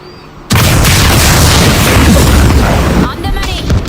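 In the World War Z video game, a missile fires with a sudden loud whoosh and erupts into a big rolling explosion that roars for a few seconds before fading, with game voices faint underneath.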